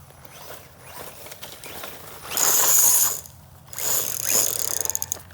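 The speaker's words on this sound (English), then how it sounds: "These sticks sound terrible when they get stuck in the wheels." A stock HBX Firebolt 901A brushless off-road RC car has a stick caught in its wheels. Close, harsh rattling and grinding clatter comes in loud bursts over a steady motor whine, with no speech.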